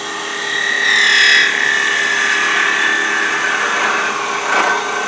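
A gouge cuts a spinning wooden mallet blank on a woodturning lathe, making a continuous close scraping hiss that rises and falls as the tool moves along the wood, with no speech.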